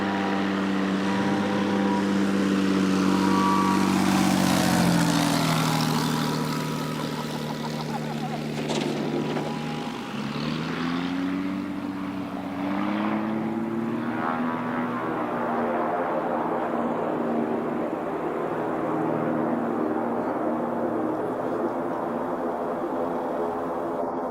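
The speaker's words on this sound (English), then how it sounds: "This student pilot completely lost control while landing" A small propeller airplane flown by a student pilot lands out of control, its engine droning loudly then dipping and surging with shifting pitch as power changes, heard near and continuous over more than twenty seconds.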